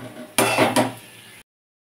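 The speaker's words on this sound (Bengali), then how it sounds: "এবার মশলার সঙ্গে পটলটাকে একটু কষিয়ে নেব।" A brief clatter of a utensil against a pan as pointed gourd is sautéed with spices in a home kitchen: two or three close metallic scrapes and knocks, then it stops.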